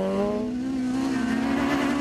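A rally car on a Garden Route Rally stage in 2011 roars past with a loud, rising engine note that climbs steadily, close and dominant, with tire noise underneath and no talking.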